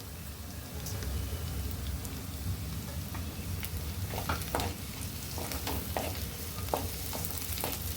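Capsicum and vegetables being sautéed over a high flame for pasta, a steady soft sizzle with scattered spatters and stirring clicks, close but fairly quiet.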